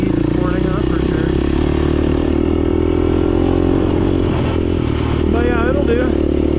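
A Beta 390 two-stroke dirt bike rides single track with a steady close engine drone, small throttle changes rising and falling, and a rider talks over it.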